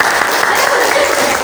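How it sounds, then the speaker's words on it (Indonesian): A classroom of students claps together in a brief, dense burst of applause, close and loud for the whole moment. "Oke, tepuk tangan buat semuanya."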